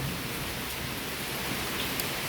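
Steady rain falls as an even, continuous hiss close by, with no pauses and no voices.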